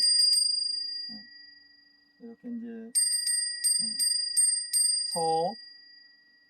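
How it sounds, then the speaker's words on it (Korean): A metal wind bell rings close up, sharp bright strikes with long ringing tails, several quick rings, while a person says a few words in between. "이건 이제 풍경 소리잖아요."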